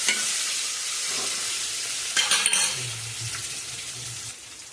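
Onion and garlic frying in a pan with a fish curry cooking nearby, a steady bright sizzle under a spoon stirring and clinking against the pan, close and moderately loud.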